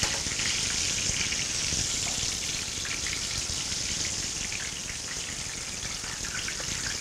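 Spicy chicken frying in oil, a steady dense sizzle with crackling pops running evenly throughout, close and fairly loud with no voices.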